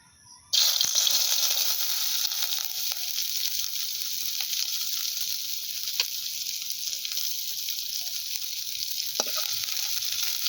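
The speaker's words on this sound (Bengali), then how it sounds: "পেঁয়াজটাকে লাল করে ভেজে নেব।" Onion frying in a small amount of hot oil for a village-style chowmein: a loud, steady sizzle that starts abruptly and holds throughout, with occasional stirring scrapes and no talking.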